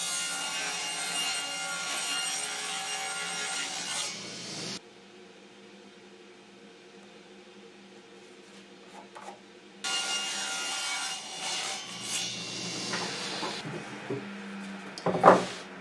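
A table saw rips through a wooden board with a loud, steady whirring cut that drops away midway into a quieter idle, then returns to a full cutting roar before a brief clatter at the end.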